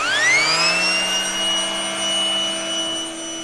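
A shop vac fitted with a Kirby carpet attachment whines loudly at close range, a rising high-pitched rocket-like tone that settles into a steady screaming drone over the few seconds.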